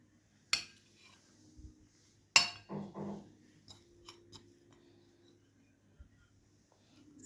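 Biryani being served onto plates at home, with two sharp clinks of metal serving spoon against plate followed by a few softer scrapes and light taps, close and fairly quiet in a still room.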